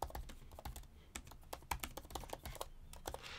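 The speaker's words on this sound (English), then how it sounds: "It has a pleasant sound to it, it's not a loud clicky keyboard" Soft, steady typing on a 16-inch MacBook Pro laptop keyboard, a quick run of quiet, non-clicky key taps close by with no voices.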